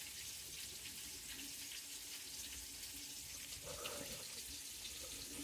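Onions and lamb bubbling in a pan, cooked in a van on a quiet Sunday afternoon, make a steady close sizzling hiss with fine crackle throughout and a faint tonal hum near the end.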